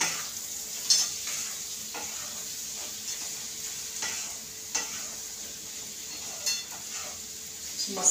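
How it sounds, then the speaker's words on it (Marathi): Potato bhaji frying in a pan is stirred with steady sizzling underneath and repeated scraping, clinking strokes of the spoon every second or so, close and fairly loud. "मस्तपैकी असे चांगले हलवून घ्यायचे, खालीवर करायचे."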